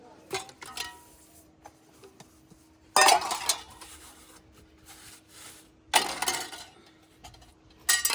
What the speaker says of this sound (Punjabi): ਹੁਣ ਸਾਰੇ ਭਾਂਡੇ ਮਾਰ ਦਾਂਗੇ